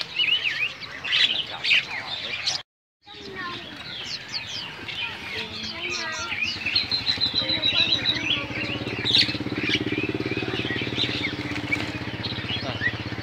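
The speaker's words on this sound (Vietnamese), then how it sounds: "Này nó là dòng vẹt." Caged parrots and other birds calling at a busy bird market in northern Vietnam, with constant chirps, whistles and squawks close by and people talking throughout.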